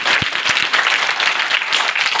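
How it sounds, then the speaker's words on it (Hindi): Loud, steady applause from an audience greeting an elderly woman guest at a Beti Bachao Beti Padhao gathering, dense clapping filling the whole stretch without pause. "इनके लिए जोरदार तालियों से स्वागत करें"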